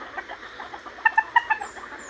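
Backyard chickens cluck at feeding time, a cluster of short, close clucks rising over a low background murmur, with no talk.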